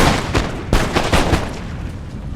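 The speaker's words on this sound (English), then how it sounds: "as we get some shots off, their rate of fire is just amazing" Musket volleys from line infantry in the strategy game Empire: Total War, several sharp cracking shots in quick irregular succession over a constant loud battle backdrop.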